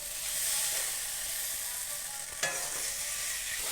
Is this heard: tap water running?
no